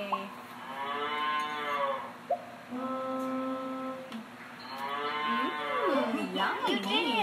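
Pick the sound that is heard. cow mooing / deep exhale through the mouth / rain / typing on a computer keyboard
cow mooing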